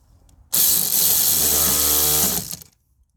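An impact gun tightens the nuts while a diesel Volkswagen Golf's fuel filter is changed: one loud, continuous buzzing rattle of about two seconds that starts abruptly and then winds down to quiet.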